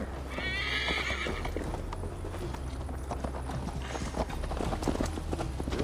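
A horse in Assassin's Creed Valhalla whinnies loudly, then hooves clip-clop in a quick galloping rhythm over steady ambient game sound.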